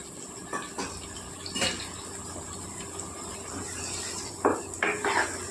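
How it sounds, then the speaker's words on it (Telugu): A spoon scrapes and taps around a pan of broad bean and tomato curry as it is mixed, with soft wet stirring and a few sharper clinks, the loudest near the end, all close and without talk. "ఇవన్నీ మొత్తంగా కలుపుకోవాలండి."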